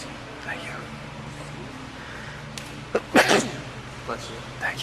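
One sharp, fairly loud sneeze breaks out in a grappling class, set against low room hum with faint talk nearby.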